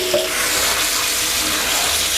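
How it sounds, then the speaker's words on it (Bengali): Cut mango pieces being washed in a pot of water for pickle making, giving a steady, close wash of running and splashing water that continues without a break and has no speech over it. "এখন আমি এগুলো সব ধুইব, এখানে ফেলায় সব ধুইব"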